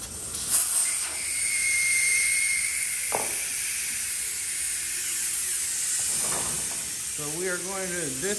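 A Coats 4050A heavy-duty air-powered tire changer runs on compressed air from a compressor, giving a continuous loud hiss with brief bursts of air release. A voice talks briefly near the end.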